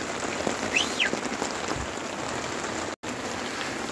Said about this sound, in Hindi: बारिश चल रही है भाई ज़बरदस्त तरीके के साथ यहाँ पे ना